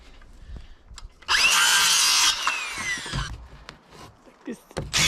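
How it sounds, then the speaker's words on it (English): A power drill drives screws lightly into fitted wood pieces for a circular hut built in the wild, one loud sustained whirring burst of about a second, with quieter handling sounds around it. "I'm actually screwing them in lightly"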